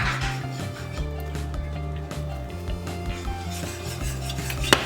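Alfredo sauce being stirred in a pan as it melts and thickens, with a utensil scraping and rubbing against the metal in a steady, continuous rhythm over a tonal background hum or music.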